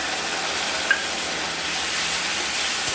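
Oil sizzles steadily in a pan while chickpea curry is stirred, a continuous soft frying hiss with a couple of faint clinks of the utensil and no talking.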